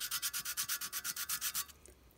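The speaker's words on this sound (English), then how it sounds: "I should probably have more fine sandpaper" Fine sandpaper rubbed back and forth on a clockwork locomotive part, a quick, even rasping rhythm of about a dozen close strokes over under two seconds, then a stop.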